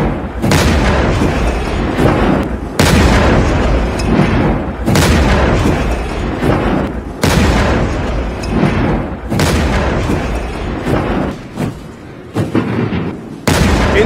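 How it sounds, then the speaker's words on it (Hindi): Artillery guns fire a ceremonial salute at China's Victory Day parade, with loud booming blasts repeating at a steady interval of roughly two seconds, each followed by a rolling echo. "तोपों की सलामी हुई।"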